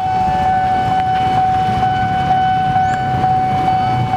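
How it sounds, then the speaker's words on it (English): A loud, steady Wabco AA-2 air horn on an Amtrak locomotive blares with a sustained tone over a rumbling background at Union Station. "Wabco AA-2 horn."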